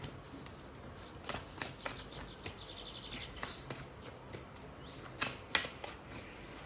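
Tarot cards being handled and drawn: a run of soft, papery flicks and taps, some brisk and close, scattered unevenly with a few sharper snaps near the end, with no talking.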